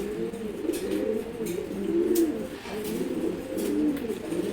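A male pigeon coos close by in a repeated, rolling rhythm, each soft throaty phrase following the last with no talking.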